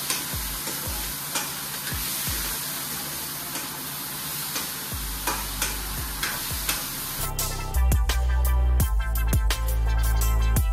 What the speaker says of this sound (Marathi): मशरूम आपण चालू फ्राय करून घेतले.